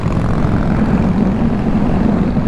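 Kawasaki Z400, an A2-class motorcycle, accelerating on a road ride; a loud, steady engine drone with heavy rushing wind noise throughout, no talking.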